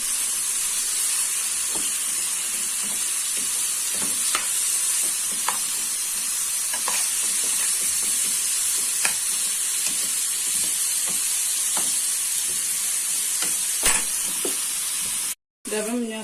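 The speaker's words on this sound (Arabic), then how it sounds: "دابا درنا الفلفله ديالنا حتى هي تشحر، وفي نفس الوقت نقابلين البصله" Peppers and onion sizzle and hiss steadily in a frying pan, a constant close crackle with occasional stirring clicks and scrapes, no talking, ending with a brief cut.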